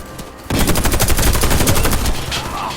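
Rapid automatic gunfire in the shooter video game Warface, loud and close, rattling in a fast steady burst for over two seconds after a brief quiet start.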